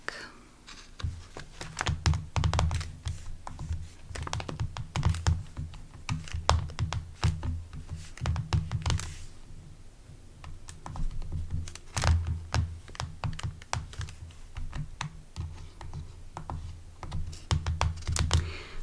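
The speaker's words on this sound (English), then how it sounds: "I'll type this in for you" Computer keyboard typing in an office-desk role-play setting, with close, crisp runs of rapid keystrokes that pause briefly midway and then resume.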